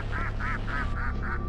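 A goose in a horror video game gives a run of five loud, evenly spaced honks over a steady low rumble, with no talking.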